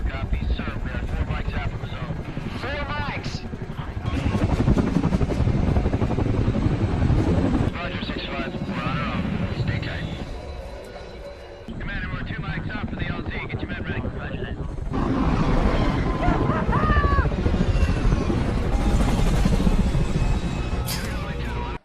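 A helicopter's heavy rotor roar and wind rumble fill the scene, loud and continuous, with voices and shouting mixed in and a brief dip midway.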